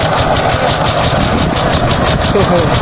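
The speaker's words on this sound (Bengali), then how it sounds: "পাওয়ার টিলার কিন্তু চালানো সহজ দেখা গেলেও বন্ধুরা সবাই চালাতে পারে না" A power tiller engine runs steadily during rice sowing in a paddy field, a continuous mid-pitched chugging drone at close range with voices talking over it.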